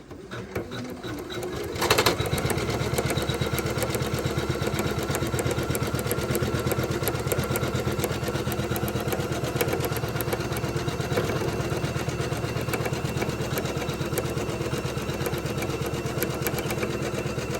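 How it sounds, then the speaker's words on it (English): A Janome 500e embroidery machine stitches a Christmas tree design, starting up after a quiet moment and then running in a steady, fast, rhythmic whir that stays close and even throughout. "So next we're going to do the Christmas tree part. Let's go ahead and start that up."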